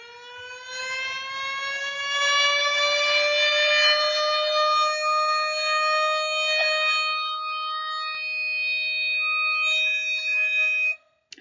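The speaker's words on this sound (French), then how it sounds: "je vous mets le son d'une sirène, par exemple, pour une alerte tornade" A tornado-alert civil defense siren of the kind used in parts of the United States wails steadily and loudly for about eleven seconds, its rising tone holding before cutting off abruptly at the end.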